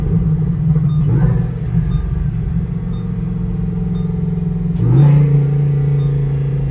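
A Lamborghini engine rumbles low and steady, then gives a quick blip as it downshifts, the note briefly rising before settling back into a deep idle-like drone, close and loud with no talking.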